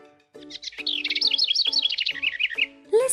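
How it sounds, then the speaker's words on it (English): Birds chirp at a farm campsite in a clear, fairly close run of rapid bright tweets and warbles, with a faint low tone underneath and a brief pause before a final call. "Can you hear the birds?"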